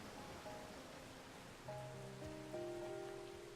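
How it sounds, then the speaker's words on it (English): Steady rain hiss in a video game world, even and fairly soft, with a few tonal game sounds rising over it partway through. "Rain is nice after all."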